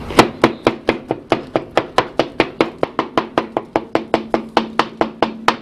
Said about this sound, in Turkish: Buradaki patlıcanlarımızı güzelce ezeceğiz.